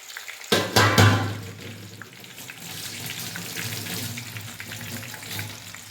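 A ground paste of mudakathan leaves drops into hot oil while making a herbal thailam, bursting into a loud spattering sizzle that settles into steady, close frying.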